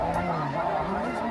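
Snow geese honk in a dense, continuous chorus during a hunt in Arkansas, a large flock calling at once at moderate loudness with no clear break.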